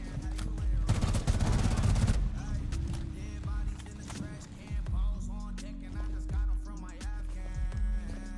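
Video game gunfire: a dense burst of rapid shots early on, then scattered single and short-burst reports continuing to the end, fairly loud and close.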